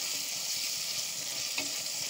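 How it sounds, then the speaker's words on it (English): Ingredients seasoned with salt and hot pepper are stirred in a hot pan, producing a continuous bright sizzle with one small utensil clink near the end. "I stir them a little."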